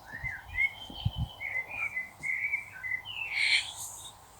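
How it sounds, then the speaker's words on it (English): Small birds chirp and whistle in a steady run of short, bright calls, with a louder burst of song near the end, over a faint low rumble and a few soft thumps. "I hear the birds chirping."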